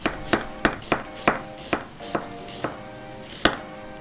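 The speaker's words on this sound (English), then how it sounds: "now for our final step, we're just gonna chop an onion" An onion being chopped with a knife for a Lebanese coleslaw burger: about nine sharp, close knife strikes on a board at a fairly steady pace, then a short pause before a last chop, with no talking.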